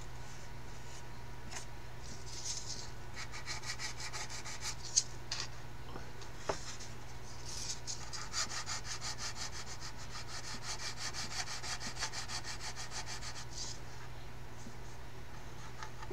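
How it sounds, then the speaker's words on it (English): Hand sanding on a 1/32 scale plastic Kitty Hawk OS2U Kingfisher model aircraft kit, a soft continuous close-up rubbing and scraping in steady strokes, with no talking. "I just gotta do a little sanding around here."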